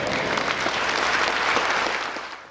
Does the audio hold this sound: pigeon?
no